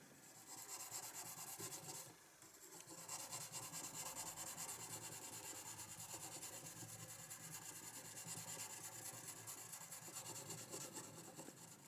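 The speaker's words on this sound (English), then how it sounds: "rub the gouge backwards and forwards" A steel wood carving gouge rubbed back and forth to polish it, first along the outside edge and then the inside, giving a steady, continuous close rasping scrape with a brief pause early on.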